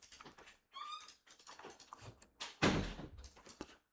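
A dog comes into a room with a person, giving a short whine and scuffling steps amid door and movement noises, ending in one loud thump, with no speech.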